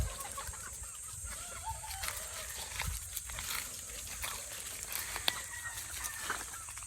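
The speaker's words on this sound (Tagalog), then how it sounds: "So ayan po yung selected na mga pullets natin." Selected pullets cluck softly in their pen, low and fairly distant calls scattered over a quiet background with occasional faint rustles.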